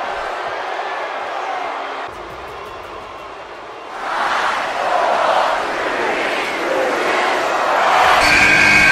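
A virtual arena crowd in WWE 2K18 during a Royal Rumble wrestling match roars and swells loudly after a quieter stretch, a dense wash of cheering that builds toward the end.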